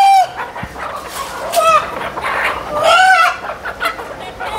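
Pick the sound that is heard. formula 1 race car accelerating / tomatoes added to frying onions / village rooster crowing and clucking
village rooster crowing and clucking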